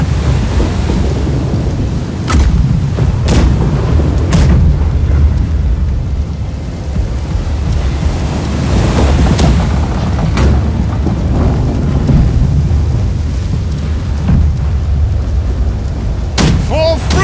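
Ship cannons firing in the Blackwake naval video game, heard as repeated booming blasts over a constant roar of wind and sea, with sharp cracks scattered through the clip and faint voices underneath.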